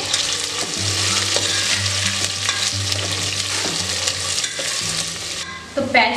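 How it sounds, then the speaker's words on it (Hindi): Onions fry at full heat in a pressure cooker, a dense close sizzle with repeated stirring scrapes and a steady low hum underneath, ending in a short knock of the utensil. "प्याज को हमें अच्छा गोल्डन ब्राउन होने तक भून लेना है"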